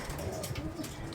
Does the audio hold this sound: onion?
no